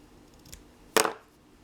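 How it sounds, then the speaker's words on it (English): A single crisp snip of scissors cuts through fabric lace at close range, briefly sharp against a quiet background. "Just cut some off."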